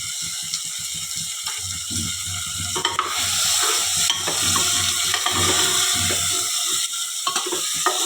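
Masoor dal being stirred in a pan, with a steady scraping, clinking run of spoon strokes against the metal over a faint background sizzle, close and continuous throughout.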